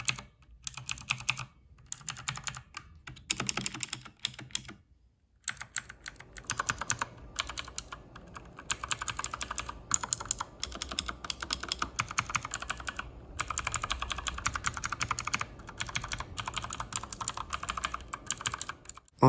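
Rapid, continuous clacking of keys on an inexpensive mechanical keyboard bought on Amazon, heard up close and alone, with a few brief pauses between bursts of typing.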